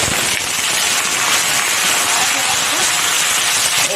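Drumstick (sajna) pieces drop into hot oil already tempered with panch phoron and bay leaves, giving a loud, continuous close sizzle and crackle like heavy rain that holds steady throughout.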